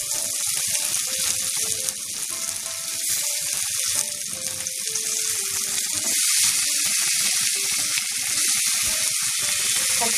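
Loitta fish frying with tomato in a pan, a close bright sizzle and crackle with intermittent wet stirring and clattering throughout.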